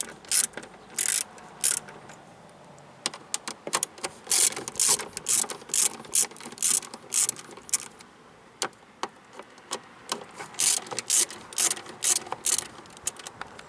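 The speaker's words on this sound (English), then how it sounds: "Now you can remove these 4 screws holding in the speaker with the 7/32." Ratchet clicking in repeated bursts as a 7/32 socket backs out four screws holding a car door speaker during a window regulator replacement, close and crisp with short pauses between runs.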